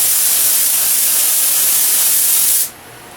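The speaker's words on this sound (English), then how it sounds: "I'm going to spray this" An air spray gun sprays thinned latex paint up close, a loud, steady, broad hiss that cuts off abruptly, leaving a quieter background hum.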